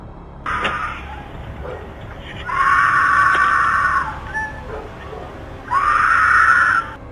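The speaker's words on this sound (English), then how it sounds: "you hear another woman off in the distance desperately screaming for help" A woman screams for help somewhere in the distance, picked up by a doorbell camera, in three long, desperate, strained wails separated by brief pauses, with shorter cries between them.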